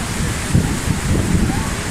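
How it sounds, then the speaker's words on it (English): Heavy rain pours down at Niagara, a dense, constant hiss with wind buffeting the microphone and low rumbling gusts throughout. "It's just pouring rain here like every day,"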